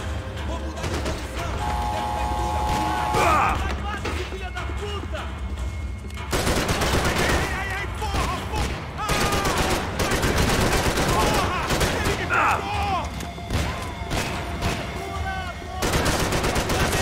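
Gunfire in the video game Max Payne 3, with dense bursts of shots running throughout, loud and continuous, over game ambience and occasional talk.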